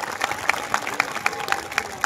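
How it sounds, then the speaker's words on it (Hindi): An audience at an Indian poetry gathering during a Durga festival claps together in a quick, steady rhythm, with a murmur of crowd noise underneath. "एक बार तालियां बजा देंगे तो मैं शुरुआत कर दूंगी।"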